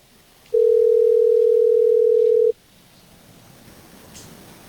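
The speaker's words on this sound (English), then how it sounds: "Listening to the phone ring." A single long steady tone from a telephone line sounds loud and clear for about two seconds against quiet background noise, then stops.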